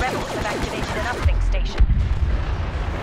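Grenade blast in Star Wars Battlefront gameplay: rapid gunfire and laser shots give way to a heavy, booming explosion followed by a second deep thump and rumbling debris, loud and close.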